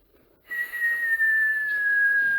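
Someone whistles a single long, clear, sustained note that starts abruptly after a brief quiet moment and glides slowly downward in pitch, fairly close and alone.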